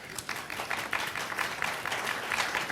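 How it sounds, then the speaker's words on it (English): A lecture audience breaks into sustained applause, a dense and fairly loud patter of many hands clapping with no talk on top. "he definitely deserves your applause"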